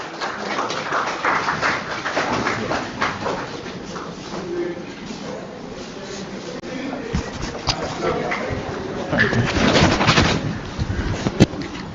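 A workshop audience claps for the head of a computer science department after a welcome address, a dense, steady patter of many hands filling the room, swelling near the end with scattered voices.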